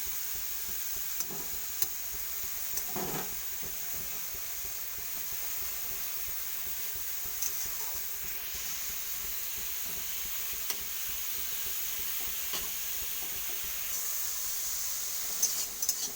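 Bottle gourd leaves fry in a pan with a soft, continuous sizzle and hiss, broken by occasional stirring scrapes and clinks, fairly faint and with no talking.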